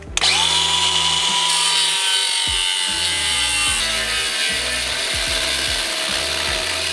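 Battery-powered hand tool running on a dying battery while work is done on a twin-turbo LSX Fox-body car, a steady loud mechanical whine with ratcheting, stuttering low pulses throughout.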